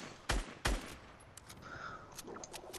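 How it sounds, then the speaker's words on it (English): Gunfire in a video game: two sharp, close shots in quick succession, followed by fainter scattered pops and clicks against a quiet background. "I'm just randomly shooting now."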